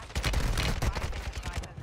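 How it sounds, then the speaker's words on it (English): Rapid automatic gunfire in Call of Duty Warzone at Vondel Park rattles in a dense, loud burst of shots lasting under two seconds. "Where am I getting shot from?"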